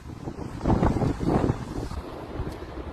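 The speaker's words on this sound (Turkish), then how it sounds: "Tepede rüzgar var." Gusty wind on a hilltop in Bursa rumbles against the microphone in uneven bursts, loudest in the middle and easing toward the end, with no talking.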